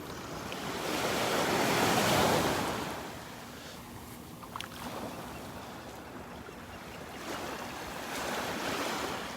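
Small waves roll in on a calm Gulf of Mexico beach at Vanderbilt Beach, North Naples, Florida, at dawn, a soft continuous wash that swells and eases in gentle surges, with light wind on the microphone and nobody talking.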